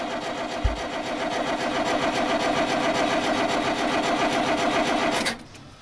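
Diesel engine cranked on the starter after its fuel system was bled, a rapid rhythmic churning that runs steadily for about five seconds, loud and close, then stops abruptly without the engine catching.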